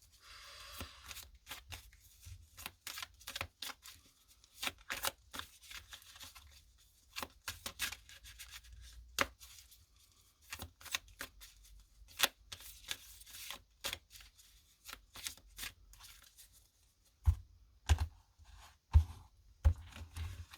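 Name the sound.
tarot cards being handled and laid out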